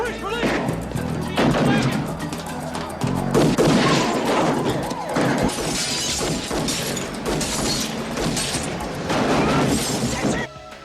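Gunfire from the 1988 action film Above the Law: a string of loud, sharp shots and bursts mixed with shattering, crashing impacts, running under overlapping voices and a busy soundtrack.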